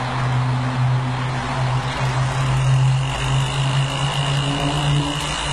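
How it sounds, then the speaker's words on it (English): A fan blows air onto a barbecue charcoal fire in a small homemade steam engine, making a steady, close motor drone with a low hum that holds unchanged throughout. "we're going to put the fan on to draw the fire."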